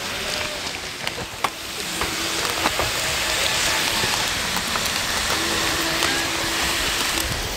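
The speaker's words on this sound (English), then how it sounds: "Sizzling." Japanese emergency-ration curry sizzles as it cooks in a pan, a steady close hiss scattered with small crackles and pops, with no voices.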